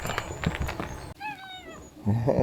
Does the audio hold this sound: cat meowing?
yes